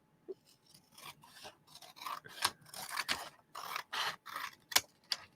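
Scissors trimming material while making lace and butterfly pieces: a close series of crisp, quiet snips, irregular at first and then coming in quicker runs, alone without talk.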